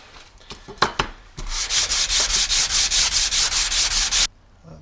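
A Stanley hand plane blade is rubbed on a sharpening stone to flatten it: a few scattered scrapes, then a loud, steady run of about fourteen rhythmic back-and-forth grinding strokes before stopping.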